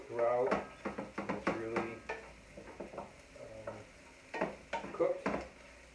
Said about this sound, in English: I like to break the eggs up to little pieces and cook it